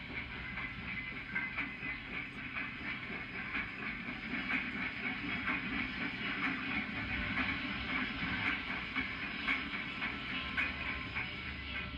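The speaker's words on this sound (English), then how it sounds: "K5 Pacific 4922 has cut off from its Cincinnati-bound train to pick up a coach before departing." K5 Pacific steam locomotive 4922 with its Cincinnati-bound train, faint and distant, a continuous rumble with soft hiss and rhythmic rail clatter holding steady throughout.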